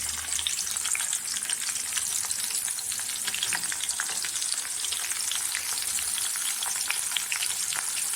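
Chopped onion fries in hot oil for a tempering, a loud, close, continuous sizzle full of rapid crackles and small pops, with no voices.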